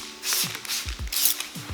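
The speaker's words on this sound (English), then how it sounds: "pop up the windshield wipers, just so they don't get in the way" Car windshield wipers being lifted away from the glass, a few quick mechanical clicks and creaking snaps spaced out over a moment, close and alone.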